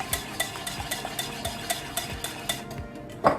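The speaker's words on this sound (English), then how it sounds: "You have to stir, you have to make it even." Carrot cake batter stirred in a cooking pan, a series of soft rhythmic scraping strokes of a utensil against the pan at a steady pace, close and fairly quiet, with a louder knock at the end.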